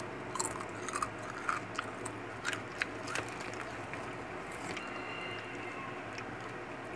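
Honey butter potato chips crunch between teeth in close, quiet bites, a few sharp crisp snaps early on and softer chewing afterward with no talk.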